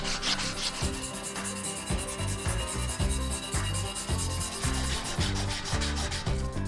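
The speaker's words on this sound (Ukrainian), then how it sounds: "беремо 600-й абразив і шліфуємо секцію ним" Steady rhythmic rubbing of 600-grit abrasive on a 1979 spinning fishing rod, back-and-forth strokes repeating about every half second, close and continuous with no talking.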